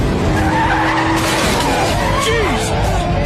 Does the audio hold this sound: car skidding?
yes